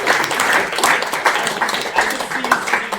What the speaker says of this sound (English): Were you just very prepared to clap?